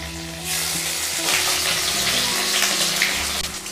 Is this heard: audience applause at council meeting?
no